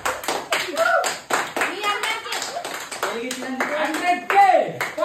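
Sharp hand claps punctuate a lively celebration of reaching 100k Instagram followers, mixed with excited voices, including a child's, talking and calling over them.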